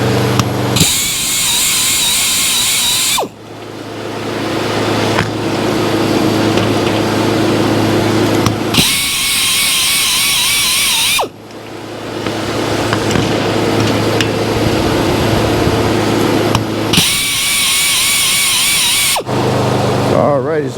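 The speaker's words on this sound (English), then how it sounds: "So I'm going to finish sharpening here" A grinder sharpens the bits of a 56-inch sawmill saw in repeated bursts, loud high-pitched whining grinding lasting a few seconds each, broken by quieter stretches where a lower steady machine hum carries on.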